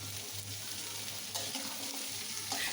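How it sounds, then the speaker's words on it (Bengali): Mixed vegetables (papaya, carrot, pumpkin and potato) frying with onion and green chilli in a pan, a quiet continuous sizzle with occasional stirring scrapes and a few brighter bursts. "তারপর আমি পেঁয়াজ আর কাঁচামরিচ দিয়ে ভেজে নিচ্ছি"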